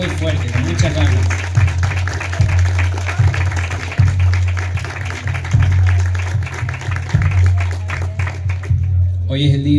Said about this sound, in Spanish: Griselda, un aplauso muy fuerte para Griselda.